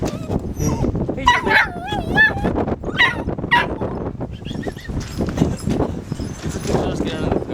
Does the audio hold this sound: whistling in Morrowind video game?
no